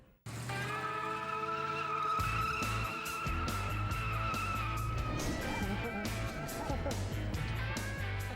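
A car loses control on wide open ground with thousands of feet of clear space, tires squealing and skidding in a long continuous screech over a steady engine roar, loud and close.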